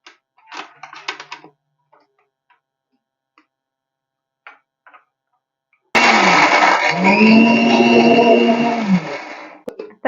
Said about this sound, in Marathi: आता हे थंड झाल्यावरती बारीक करून घ्यायचे मिक्सरला